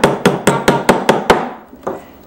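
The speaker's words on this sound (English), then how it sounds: "put lip side down to the pounding block, use a plastic mallet, and hammer all around" A plastic mallet hammers a brass metal blank resting on a pounding block: seven quick, sharp strikes in an even rhythm, then a pause and one final blow, each ringing briefly.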